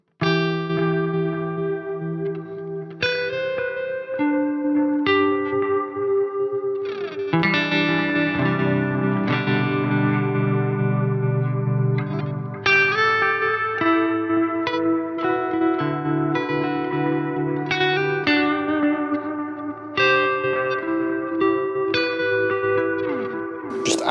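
Electric guitar through a pedalboard with a Strymon modulation pedal and hall reverb, playing sustained chords and melodic lines, washed in shimmering modulation, continuous and full throughout.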